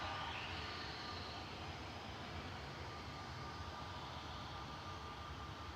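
A Cathay Pacific airliner on approach at Manchester Airport, a steady distant engine roar and rumble filling the air, continuous and even without a clear rise or fade.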